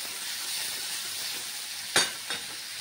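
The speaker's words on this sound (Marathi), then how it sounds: "असं थोडंसं फ्राय करून घ्यायचं," Tomatoes fry in a pan for paneer curry with a steady, close hiss of sizzling, broken by two short, louder spatters near the end.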